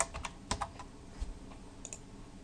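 Clicky keystrokes on a computer keyboard while JavaScript code is typed, a quick cluster of taps followed by a few scattered presses, close and moderately quiet.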